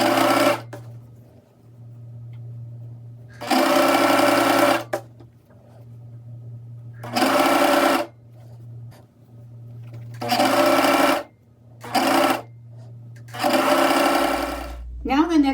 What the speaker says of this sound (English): hold the two pieces together and serge them